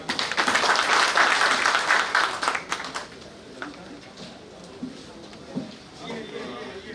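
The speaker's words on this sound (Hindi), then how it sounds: "एक बार और जोरदार तालियां।" Loud crowd applause at a launch event fades after about three seconds, leaving a quieter room with faint murmuring and scattered sounds.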